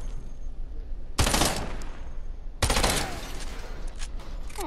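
Video game gunfire arrives as two heavy blasts about a second and a half apart, each a sharp loud crack trailing off into a noisy decay over a low rumbling backdrop.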